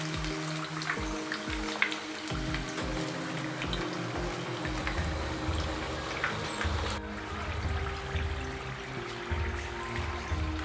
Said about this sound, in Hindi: ये हमारा समोसा फ्राई होने लगा है।